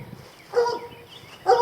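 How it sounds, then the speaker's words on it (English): A dog gives two short barks close by, separated by a pause, with quiet outdoor background and no speech. "There's my ornery old dog."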